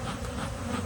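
Honey bees buzz continuously inside an open hive, a dense, steady hum of many wings close by, with no talk.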